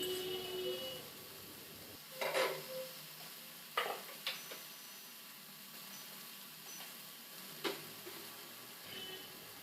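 Fried soybean chunks and eggplant are stirred in a pan, a soft low sizzle broken by a few scraping and clinking spatula strokes at irregular intervals.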